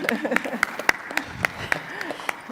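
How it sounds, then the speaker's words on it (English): Sparse, scattered claps ring out as a thin smattering of applause, with a voice murmuring underneath. "You should clap for that"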